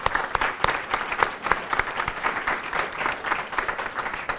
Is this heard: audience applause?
yes